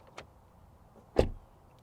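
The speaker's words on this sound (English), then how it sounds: "Door open and close sound from the outside" Genesis GV60 electric SUV door, 2023 model, opened and shut from outside: a light latch click, then a solid, louder thunk of the door closing about a second later, isolated with no talk.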